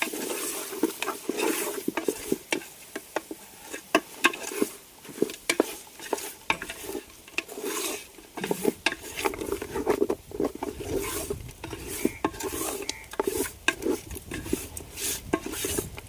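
Stirring village-style country chicken curry in a pot, with repeated scraping and clinking of a spoon against metal over a faint sizzle, steady and close throughout.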